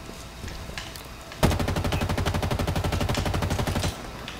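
Rapid automatic gunfire in Halo Infinite, a sustained burst of evenly spaced loud shots starting abruptly after a quieter stretch of game ambience and cutting off near the end.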